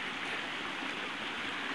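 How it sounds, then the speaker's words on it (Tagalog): Steady rushing water of a river waterfall on a rural farm lot, a constant broad roar close by with no other sounds and no talking. "Running water po yan."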